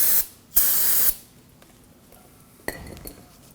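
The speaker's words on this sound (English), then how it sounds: "We're going to go ahead and spray this off with some brake cleaner." Two loud hissing bursts of brake cleaner aerosol sprayed onto a front brake caliper of a 1993-2001 Subaru Impreza, the second longer and steady, followed by a faint metallic clink nearby.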